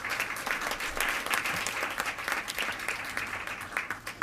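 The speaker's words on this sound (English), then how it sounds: "I'd like to give them one more round of applause." Sustained audience applause fills a school board meeting room, dense steady clapping from many hands continuing throughout without a break.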